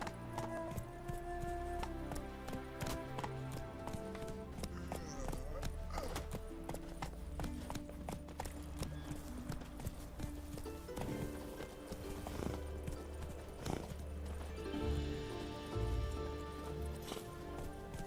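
Roach, the horse in The Witcher 3: Wild Hunt, gallops with steady rhythmic hoofbeats and an occasional whinny, heard amid game music and ambience.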